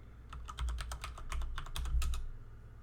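Quick run of keystrokes on a computer keyboard as a password is entered on a remote login to a Raspberry Pi, about a dozen close, crisp clicks in a steady burst with no talking.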